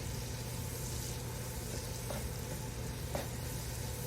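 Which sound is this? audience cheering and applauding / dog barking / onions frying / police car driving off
onions frying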